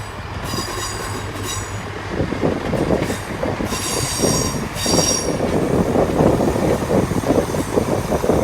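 A GWR Turbo diesel multiple unit moves through Exeter St David's station, loud and close, with a heavy rumble of wheels and high metallic squeals that build and stay strong to the end.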